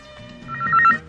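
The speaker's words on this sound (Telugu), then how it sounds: "అమ్మా, రింగ్ అవుతోంది." A telephone bell rings once, a short bright trill that is loud and close, with no talk over it.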